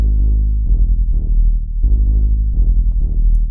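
A house bass synth patch built in Serum, its filter cutoff swept by an envelope, plays a loud, deep, repeating pattern of sustained bass notes with rhythmic pulsing, heard alone.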